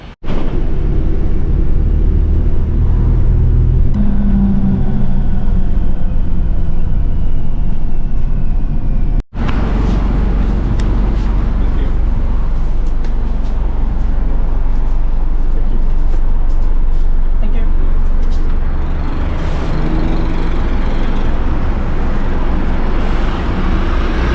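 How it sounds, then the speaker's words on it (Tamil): Loud, steady rumble of a bus engine pulling away from a stop near Gatwick station, with continuous road and traffic noise throughout and a brief dropout midway. "அங்கே பார்த்தீங்கன்னா என்னோட இன்னொரு பஸ்ஸும் ஸ்டாப்பை விட்டு போகுது."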